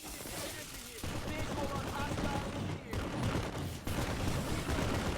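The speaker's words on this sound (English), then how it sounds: "There's some turrets firing and a mag rider" Sniper shots and turret gunfire in the online shooter Planetside 2 form a dense, continuous rattle of distant rapid fire and explosions, with a few abrupt shifts in loudness and no talk.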